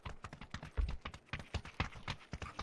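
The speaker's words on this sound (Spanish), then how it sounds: "Escucho un pasito en oficina." Quick footsteps on hard flooring inside an office building in PUBG on the Erangel map, a steady run of close, sharp steps with heavier thuds mixed in, no talking.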